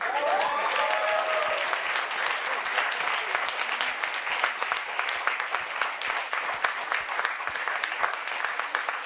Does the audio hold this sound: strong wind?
no